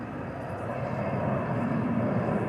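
A jet airliner idling or taxiing at Dallas-Fort Worth airport before takeoff, a steady broadband engine roar that stays constant and loud throughout, with faint voices in the background.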